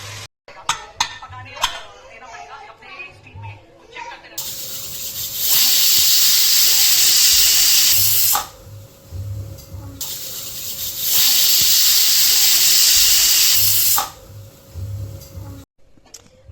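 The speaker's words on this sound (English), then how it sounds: "the air has all left, the steam has left from the pressure cooker" Loud, steady steam hissing from a pressure cooker cooking yakhni pulao in two long bursts, with clinking of metal kitchenware and pauses between.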